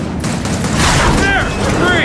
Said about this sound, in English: shoot the webbing